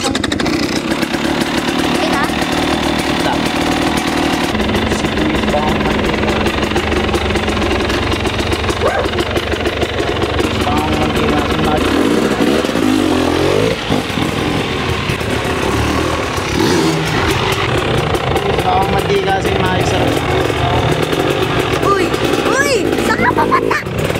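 Small engine cold-started with the choke engaged, then a rough, loud continuous idle with knocking, rattling texture, while people talk over it throughout.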